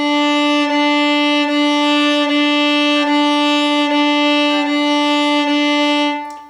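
A violin saws out heavy, repeated bow strokes on a single open string, loud and close, each stroke marked by a gritty attack.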